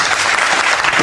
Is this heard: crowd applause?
yes